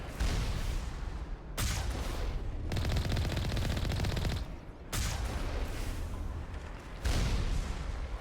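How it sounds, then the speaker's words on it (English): In the video game Mass Effect, a rocket streaks in and erupts amid dense, rapid gunfire, heard as loud bursts of crackling fire separated by short gaps, with no voices. "That's a whole ass rocket you're firing at me"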